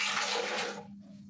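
Water poured from a cup into a jug, a steady broadband splashing pour that tapers off near the end, close and fairly quiet.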